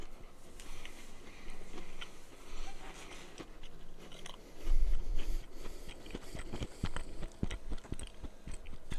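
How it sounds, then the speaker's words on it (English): Close crunching and chewing of crisp wafer cookies, irregular bites and grinding that grow louder partway through, with soft clicks between. "Especially with the wafers, those things are super crunchy."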